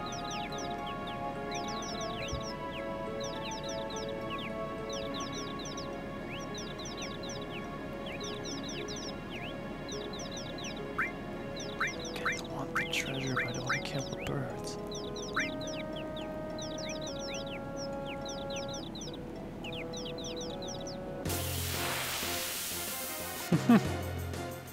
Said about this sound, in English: We found birds!